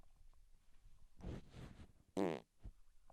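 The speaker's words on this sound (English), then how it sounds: "I'm gonna fart into the microphone" A fart let loose right into a headset microphone, a short loud blurt preceded by softer rustling bursts, close and dry with no talking.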